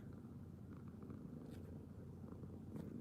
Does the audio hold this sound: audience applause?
no